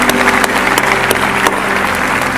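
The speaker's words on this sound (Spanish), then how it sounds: "Fuertes aplausos" Church congregation applauding loudly, a close, dense burst of many hands clapping with a few sharp individual claps standing out above a low hum.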